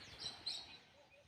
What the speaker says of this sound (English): can you just hear the birds?